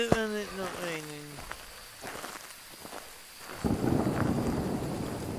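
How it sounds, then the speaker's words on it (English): Rain in a Phasmophobia campsite map, a steady hiss of rainfall that swells louder partway through, under a brief tone and a few footsteps. "Let's do it when it's not raining."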